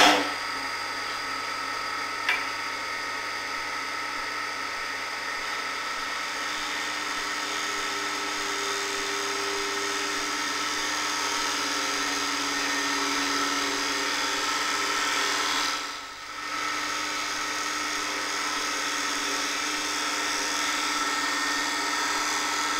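Wood spins on a lathe while a Robert Sorby multi-tip hollowing tool shear-scrapes fine shavings, making a steady, even whirring drone with airy hiss that dips briefly near the end.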